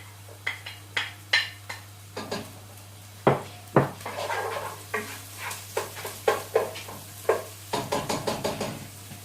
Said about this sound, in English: So we'll pop in the red onion. So that's already starting to sizzle away now.